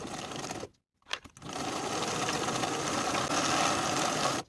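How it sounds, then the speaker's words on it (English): A sewing machine runs a 5/8 inch seam along the long and short edges of vest tie straps. A short burst is followed by a brief stop, then a steady continuous whirring hum close by. "Sew the long edges and short edges with a 5/8 inch seam allowance."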